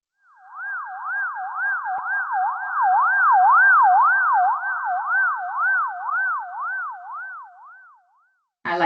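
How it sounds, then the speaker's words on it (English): A synthetic wailing siren effect rises and falls in a steady warbling cycle for about eight seconds, loud and clean against silence, then cuts off abruptly. "hopefully you all enjoyed my siren there"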